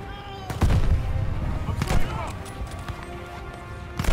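Gunfire from a headshot in the first-person shooter Call of Duty Vanguard, played during its campaign: a few sharp, loud shots over a dense background of game noise and movement.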